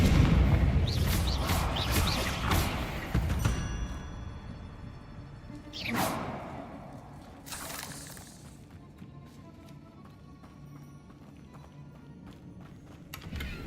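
Confringo blasting-spell explosions in Hogwarts Legacy during combat against higher-level enemies: booming, crackling blasts with sharp bursts and shattering debris, a loud cluster early and a couple more later, then fading into quieter ambience.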